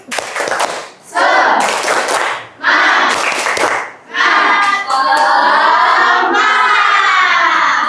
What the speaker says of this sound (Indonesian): Kita ice breaking dulu. Tepuk semangat.